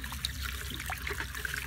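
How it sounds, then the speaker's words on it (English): Caustic soda crystals are poured into a bucket of water and stirred, giving a steady close trickle and sloshing of liquid with small splashes and scraping. "I'll be turning it into this bucket of water while I stir thoroughly to dissolve"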